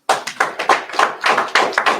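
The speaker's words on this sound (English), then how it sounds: "Clap it up." A church congregation at a Sabbath service claps in a quick, loud, roughly regular run of about ten sharp claps close by, with no voices over them.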